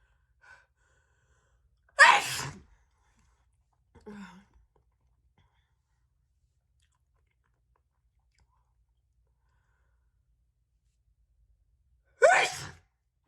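A woman sneezes two big, wet sneezes about ten seconds apart, sharp and close in an otherwise quiet room, with a faint breathy gasp between them.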